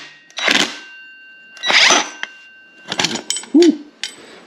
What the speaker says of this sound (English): blast this thing off with a 39 millimeter impact